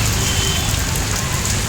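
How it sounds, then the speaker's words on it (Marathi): Steady rain falling on surfaces nearby, a dense even patter at constant loudness with no voices. "आज जरा दिवसभर पाऊस पडतोय"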